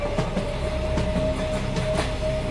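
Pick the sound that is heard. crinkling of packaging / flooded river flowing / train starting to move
train starting to move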